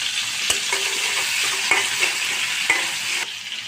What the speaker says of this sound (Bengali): ওই পাশে মাছটা ভাজতে থাকুক